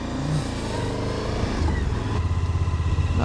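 Suzuki V-Strom 1050DE adventure motorcycle pulling around 3,500 rpm, its engine close and loud with a throbbing exhaust pulse that firms up as it accelerates.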